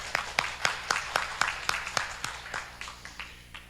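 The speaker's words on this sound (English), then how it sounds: "Give yourself a round of applause." A small conference audience gives sparse, faint applause, with a dozen or so distinct claps spaced unevenly and gradually thinning out.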